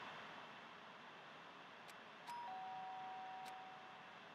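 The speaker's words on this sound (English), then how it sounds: "did I hear the doorbell?" A doorbell chimes in the Danganronpa video game, two or three short, faint ding tones over a quiet hiss of background noise.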